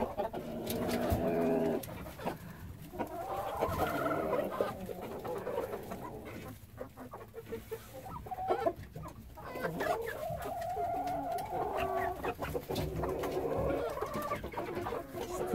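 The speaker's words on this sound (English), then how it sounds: "We're rather attached to these roosters, so they'll probably be hanging out" Roosters clucking and cooing close by on a small farm, soft overlapping bird calls running throughout against a low background murmur.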